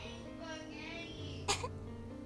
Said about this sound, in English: some pony coughed